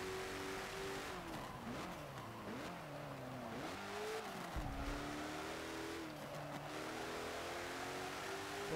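In Forza Motorsport 7, the Totino's car revs hard through its gears while cornering, the engine note rising and dipping repeatedly, with a brief tire squeal mid-run and no talking over it.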